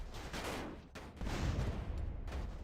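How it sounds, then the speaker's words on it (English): Explosions from the GTA San Andreas Definitive Edition video game, a dense run of loud, rumbling blasts and crackling bursts that swell again after a short dip, with no talking over them. "I wanted to do some explosions"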